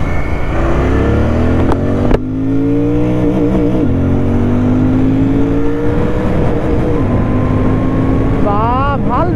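A GT motorcycle is ridden on a road in Upper Assam, its engine revving up through repeated rising pitch sweeps between gear changes, loud and close, with heavy wind rush.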